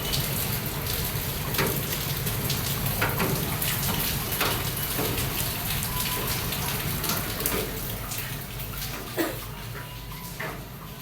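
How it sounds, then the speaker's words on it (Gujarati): Gentle rain falls steadily, a continuous hiss with scattered drips and taps, no voices. "સવારમાં વરસાદની પધરામણી થઈ ગઈ ભાઈ."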